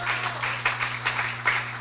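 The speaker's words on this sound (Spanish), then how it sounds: "Denle un aplauso al Señor Jesús." Church congregation clapping during a prayer service, a faint patter of applause with a few sharper bursts over a steady low hum.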